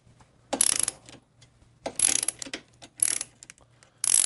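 A ratchet wrench loosening a bolt on a Harley Shovelhead exhaust bracket at the foot peg mount: four short bursts of sharp clicking, close and clear, separated by brief pauses, with no talk.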